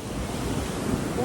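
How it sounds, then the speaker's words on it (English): Ocean waves break and wash onto a Cape Cod National Seashore beach with a strong riptide, a steady surf rush mixed with wind buffeting the microphone, close and continuous. "you never should put your back to the water because these waves, it's a really strong riptide"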